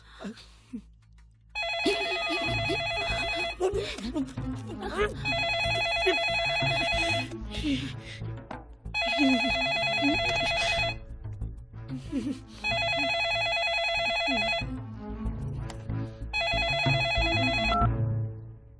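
A telephone bell rings in four long repeated bursts separated by short pauses, loud and close, with faint murmuring beneath.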